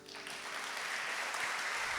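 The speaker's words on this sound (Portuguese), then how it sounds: "Uma salva de palmas para o Senhor." Sustained applause from a church congregation during a Catholic Eucharist celebration, a dense, steady clapping that fills the whole clip at even loudness.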